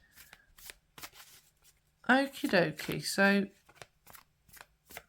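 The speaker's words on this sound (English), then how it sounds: "I'm shuffling away" Tarot cards are shuffled in quick papery riffles and soft taps, clearest at the start and end, while someone talks briefly in the middle.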